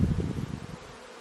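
A dense, agitated buzzing of many bees close by after being sprayed during a bare-handed honey harvest, loud at first and fading out toward the end.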